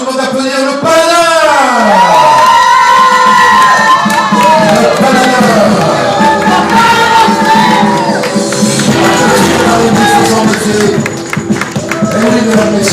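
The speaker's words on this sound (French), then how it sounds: "Mesdames, messieurs, je vous demande d'applaudir le paladin" A loud crowd at an amateur wrestling rumble event cheers and shouts over blaring entrance music with sweeping tones, the noise sustained throughout.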